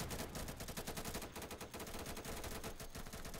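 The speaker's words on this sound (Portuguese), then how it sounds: "Só que eu vou dar uns tiros aí, Sonny" Rapid automatic gunfire in a competitive shooter video game, a dense, continuous rattle of shots at steady volume with no break for the whole few seconds.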